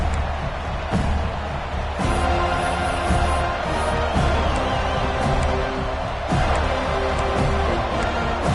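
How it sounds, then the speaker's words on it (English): A stadium crowd rumbles through a college American football video game, a steady, loud wash of crowd noise with occasional thumps and swells, with no voice on top. "This crowd ready to make its presence known."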